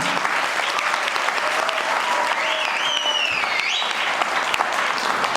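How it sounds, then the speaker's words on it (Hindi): An audience at a networking training session in Haridwar bursts into loud, sustained applause, dense clapping throughout with faint whistles riding above it. "तो एक बार जोरदार तालियां भैया के लिए नहीं चाहिए?"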